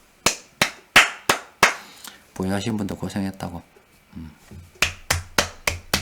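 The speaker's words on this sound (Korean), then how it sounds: "지금은 그냥 박수 쳐줘야죠." Sharp single hand claps, close and distinct, about five in a slow, even rhythm, then a pause while someone speaks, followed by several more claps at the same pace.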